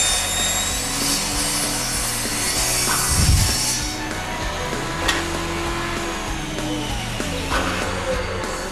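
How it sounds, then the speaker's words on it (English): Wood is sawn by hand, giving continuous rough rasping strokes at close range that keep a steady, even rhythm. "That's how you cut wood."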